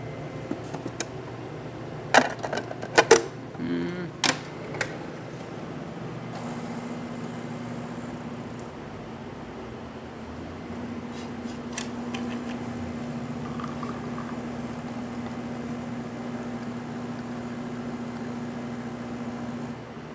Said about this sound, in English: I'm gonna do a couple of espressos, pretty much finish the coffee that we have inside the machine right here.